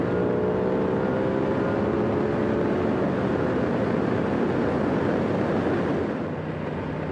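A 2025 Aprilia Tuono 660 Factory motorcycle engine runs steadily and loudly, with a rising tonal whine as the bike pulls away and accelerates, and no voices.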